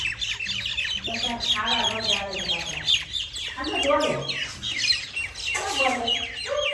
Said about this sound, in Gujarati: ચકલા કેટલા બધા આવી ગયા ખાવા આવે.